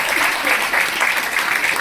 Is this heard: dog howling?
no